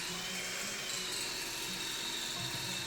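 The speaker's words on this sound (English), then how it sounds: "Now we remounted the jig to drill the cross holes." A power drill bores cross holes through hard maple in a jig for a workbench, a steady, loud grinding whir with a faint rhythmic chatter throughout, no voices.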